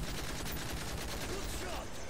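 Rapid bursts of gunfire from the Modern Warfare 3 video game sound as dense continuous crackling and rumble throughout, loud and steady with no pauses.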